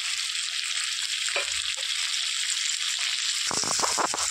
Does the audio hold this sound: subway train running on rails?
no